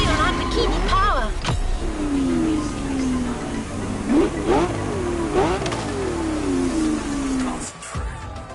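A Lamborghini engine in The Crew Motorfest revs through repeated rising and falling sweeps, loud and close, with a steady rumble running beneath and a sharp break near the end.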